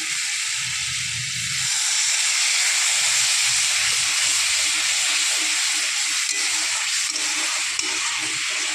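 Cabbage and pea masala hisses and sizzles steadily in a hot pan after a splash of water, a continuous bright steamy sizzle with a faint low rumble underneath.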